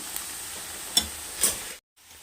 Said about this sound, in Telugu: ఇంకొక ఫైవ్ మినిట్స్ ఫ్రై చేయనిద్దామండి